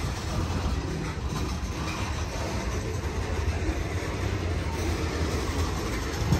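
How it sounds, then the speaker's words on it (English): A Norfolk Southern eastbound manifest freight train rumbles past nearby at Elkhart, Indiana, a steady heavy roar with low rolling drone and faint rhythmic wheel clatter, continuous throughout. "this eastbound manifest is coming out of the large Norfolk Southern Elkhart hump yard"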